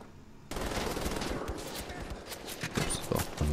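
Rapid machine gun fire in Wolfenstein The Old Blood, with dense bursts of shots starting abruptly and continuing through the clip, moderately loud and close.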